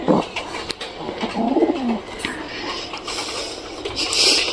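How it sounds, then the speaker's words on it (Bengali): A domestic pigeon sitting on its eggs gives a soft, low cooing phrase up close, with a few faint clicks and a light background hiss around it. "এই কবুতরটা তো ডিম নিয়ে বসে আছে বন্ধুরা"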